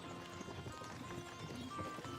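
Horse hooves clip-clop at a steady walking pace in the medieval video game Kingdom Come Deliverance 2, a fairly even rhythm of moderate-volume thuds over a busy game soundscape.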